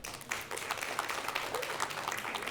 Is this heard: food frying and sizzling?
no